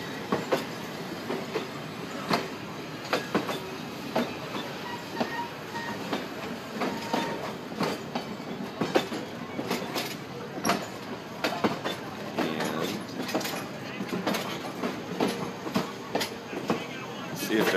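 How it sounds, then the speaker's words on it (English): A Hobo Railroad passenger train passing during Bike Week: rolling rail rumble with rhythmic clickety-clack wheel beats, steady and moderately close for the whole stretch, with no talk over it. "Here they are on a train."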